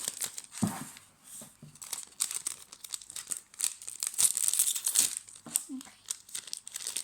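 Modeling clay packaging being opened, with crinkling and tearing plastic rustles in uneven bursts up close and a voice speaking briefly in between.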